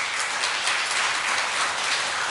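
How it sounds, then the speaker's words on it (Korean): Dense, steady applause from a church congregation during a Sunday worship service, a continuous wash of many hands clapping at fairly close range. "하나님께 은혜로운 찬양을 올려드린 우리 한나 여성교회에게 큰 격려의 박수 부탁드립니다."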